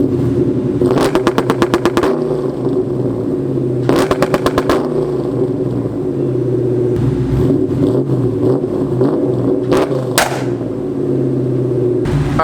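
A car engine set up to shoot flames is revved toward 3,500 rpm and then floored. Loud, close revs rise and fall, with rapid popping crackle bursts near 1, 4 and 10 seconds over a steady rumbling idle.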